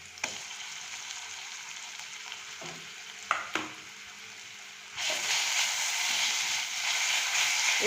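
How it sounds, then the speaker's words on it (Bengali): Ginger-garlic paste frying with carrot and onion in a pan: a steady, loud sizzle with occasional spatula clacks, swelling into a brighter, louder hiss partway through. "এর কাঁচা গন্ধটা চলে যাওয়া পর্যন্ত ভেজে নেব ভালো করে"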